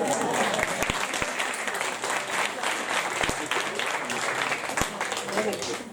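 A choir concert audience in Brocas claps loudly and steadily, a thick wash of applause with a few sharper claps standing out and voices talking over it.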